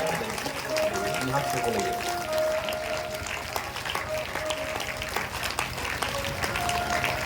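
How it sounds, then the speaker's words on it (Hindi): Applause from a crowd welcoming saints at a Shri Ram Katha religious gathering, continuous clapping with a voice talking over it and a faint tonal hum in the background. "जोरदार तालियों से आप स्वागत करेंगे संतों का।"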